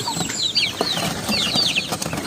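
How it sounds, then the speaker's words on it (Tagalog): Guinea fowl chatter in rapid, high, scratchy calls, repeated in short bursts over rustling and faint clucking from native chickens nearby in a backyard. "Ang tawag pala dito ay Guinea Fowl."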